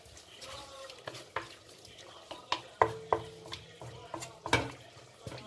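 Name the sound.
cumin seeds added to a pan, sizzling and stirred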